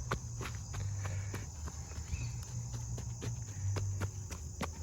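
Soil is tamped down over freshly planted chestnuts in a series of soft, rhythmic pats and thuds close by, with crickets chirping faintly in the background.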